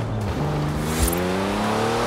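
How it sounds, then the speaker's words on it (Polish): Engine note of a car in the racing video game Forza Horizon 4, a steady droning tone with rising harmonics as it holds revs and accelerates, loud and continuous without any talk. "Jednak gra na tym poziomie powinna mieć dźwięki samochodów dobrze odwzorowane."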